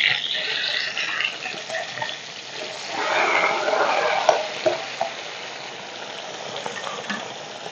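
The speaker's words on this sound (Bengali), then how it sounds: "মাছগুলো আমি বেশ লাল লাল করে ভেজে নিয়েছি" Sarputi fish frying in hot oil in a kadai, giving a steady, close crackling sizzle with scattered sharp pops throughout and no talking.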